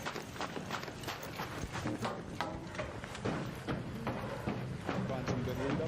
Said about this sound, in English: I hear my own footstep echo.